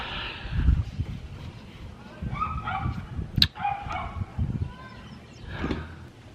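A dog barks and yips in short bursts at a moderate distance, with a higher yelp partway through and some background noise.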